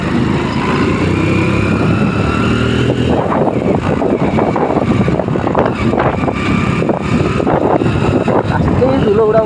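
A Hero Honda motorcycle is ridden along a dusty road, its engine droning steadily and loudly with wind rushing across the microphone, while the rider talks over the noise.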